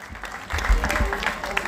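Crowd applause at a carnival queen coronation in El Barrio Calvario, San Alejo, a short swell of clapping from an outdoor audience that builds after a quiet start.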